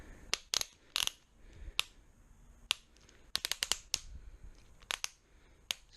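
Sharp metallic clicks from a torque wrench tightening brake rotor bolts on a dirt bike, coming in irregular bursts and clusters of quick snaps, close and fairly crisp, with no talk.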